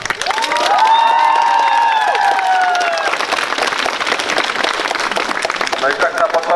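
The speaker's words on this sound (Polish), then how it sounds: "Bardzo serdecznie, brawa dla was." A crowd applauds and cheers for pilgrims arriving at the Różanystok sanctuary, a dense burst of clapping mixed with shouts and a few whistles that fades into scattered claps and chatter.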